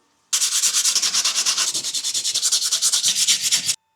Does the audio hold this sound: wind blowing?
no